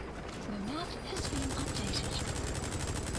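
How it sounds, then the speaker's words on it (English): Rapid automatic gunfire from a Metal Gear Solid V: The Phantom Pain game session keeps up a steady clatter, with a voice talking briefly under it at the start. "Are they shooting at each other?"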